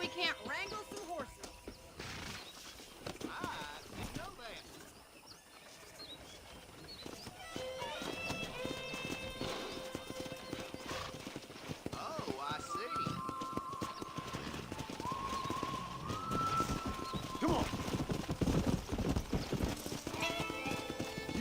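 Horse hooves clip-clop steadily while horses whinny and neigh in the video game Red Dead Redemption, with a voice speaking over the scene and a tonal musical bed underneath.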